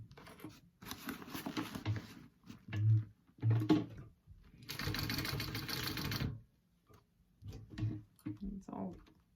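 A sewing machine stitches a shoulder bag in several short rapid bursts of mechanical clatter, separated by pauses, with a person talking between runs.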